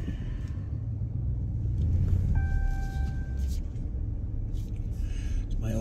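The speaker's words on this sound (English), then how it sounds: "it's my old truck." An old truck engine idles with a steady, deep rumble that swells slightly midway and holds on without a break, close and fairly loud.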